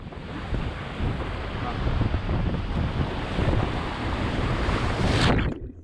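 Chaotic whitewater at Little Falls on the Potomac River, heard from a kayak, roars as a loud, continuous rush mixed with wind buffeting the microphone, then cuts off abruptly at the end.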